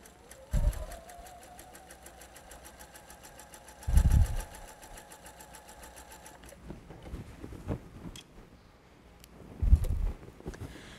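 A sewing machine stitches fabric strips for a quilt block, a fast, steady mechanical whir that runs, pauses and restarts, with faint thumps of handling fabric between the runs.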